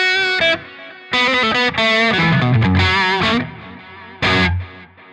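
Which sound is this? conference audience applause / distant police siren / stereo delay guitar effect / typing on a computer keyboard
stereo delay guitar effect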